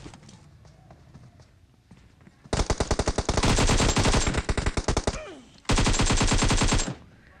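Rapid bursts of automatic gunfire ring out in the video game PUBG Mobile, two loud dense volleys of shots separated by a short pause, sharp and close after a quieter stretch.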